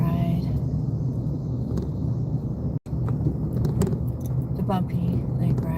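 A car drives along a bumpy lake road full of potholes, its engine and road rumble steady and loud up close, with rattles and a brief dropout, while someone talks over it.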